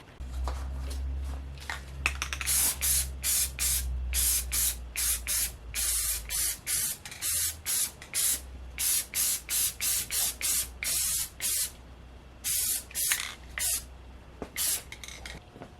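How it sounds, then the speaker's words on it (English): Rust-Oleum metallic aged brass spray paint hisses onto a clamped 3D-printed piece in many short bursts, loud and close, with brief pauses between passes and a low background hum at the start. "I'm going to clamp it in the middle and spray both ends"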